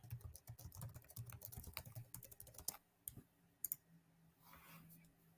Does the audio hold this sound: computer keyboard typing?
yes